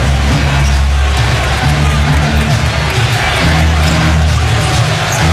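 Basketball arena crowd at the 2008 NBA Finals, Celtics hosting the Lakers, a constant low murmur and rumble of a large audience, subdued rather than roaring, heard steadily beneath broadcast commentary.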